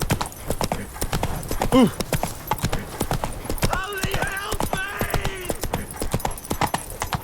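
Roach the horse gallops in The Witcher 3, hooves clip-clopping in a quick steady rhythm throughout, with a brief neigh and a short voiced exclamation over the hoofbeats.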